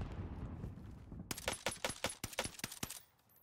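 An assault rifle loaded with fire rounds, in Warzone Pacific, fires a rapid burst of about ten sharp, close shots in quick succession, then falls quiet.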